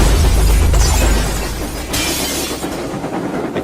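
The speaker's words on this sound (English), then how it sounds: "It caused the glass in the coaches to shatter and rock them side to side." Glass in train coach windows shatters when a shockwave hits, a loud burst of breaking glass over a heavy low rumble that fades into a rattling, noisy tail.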